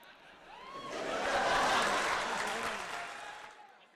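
An audience at an Urdu poetry recital in Dubai bursts into applause that swells to a full, dense roar at mid-clip and then fades, with a few faint laughs mixed in.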